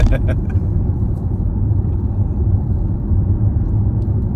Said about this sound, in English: It's a very nice car.